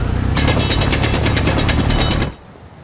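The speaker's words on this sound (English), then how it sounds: "let's go ahead and drill" A ship-mounted mining drill in the game Space Engineers grinds loudly on a planet's surface, a dense, pulsing mechanical roar that runs steadily for about two seconds and then cuts off abruptly.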